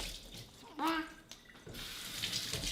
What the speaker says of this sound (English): we're just gonna make sure everything's rinsed.